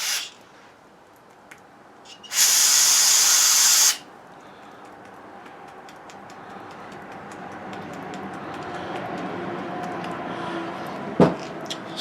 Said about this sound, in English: There's all kinds of gunk in there, so what I want to do is kind of spray that.